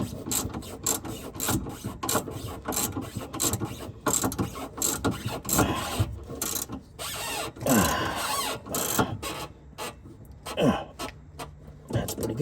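A ratchet tightens a rear shock bolt on a 2001–2002 Toyota RAV4, making close, rapid, repeated clicking from the pawl in bursts over garage background noise, with no clear speech.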